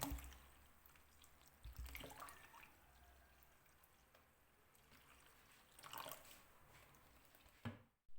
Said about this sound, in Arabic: صبوا الماء